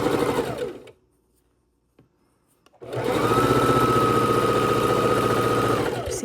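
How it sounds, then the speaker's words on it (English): A sewing machine stitching quilt pieces for a king size quilt runs in a steady, close mechanical whir, first a brief run that stops, then after a near-silent pause a longer continuous stretch of rapid stitching. "and we sew it across"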